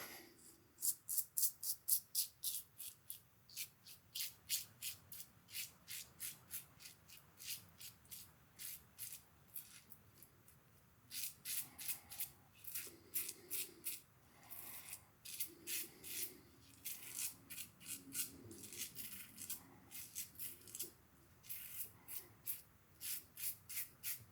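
A Maxwell June Twin Edge safety razor scrapes against the grain in repeated short, crisp strokes, close and fairly quiet, with brief pauses between passes and no talking.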